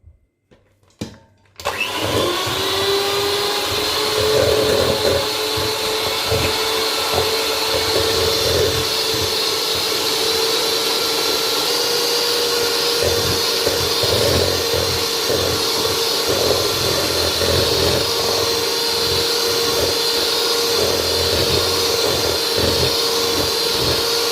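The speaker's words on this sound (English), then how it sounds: "I will still continue mixing." Electric mixer beating coconut pound cake batter, starting after a couple of clicks and then whirring steadily and loudly with a constant motor hum and faint scraping throughout.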